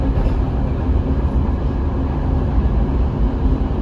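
Train with a Dunakeszi-built passenger carriage running on Hungary's railway line 5, a loud, continuous low rumble of wheels and rolling stock heard from close by, without talk.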